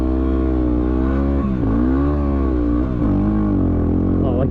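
A 4WD vehicle crossing a boggy stretch of the Little Desert, its engine revving loud and close with pitch swinging up and down as it labours through, while a person talks over it.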